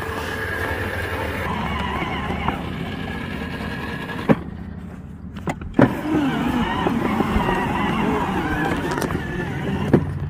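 Freightliner ride-on toy truck from Tractor Supply driving outdoors on grass, a steady continuous electric motor whir with wheel rumble running throughout, interrupted by a few sharp knocks and a brief dip near the middle.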